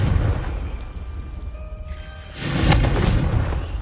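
Confringo blast spell in Hogwarts Legacy, a rumbling whoosh giving way to a loud, bright explosive burst with a crackling tail.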